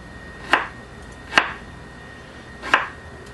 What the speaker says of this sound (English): I'm going to be dicing this ginger.